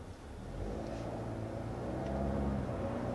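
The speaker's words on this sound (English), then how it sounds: "Now that was our auto start-stop system at work" A 2023 Audi S3 with its mild hybrid auto start-stop system brings the engine back to life, a low steady hum that swells slightly and holds under the cabin's road noise.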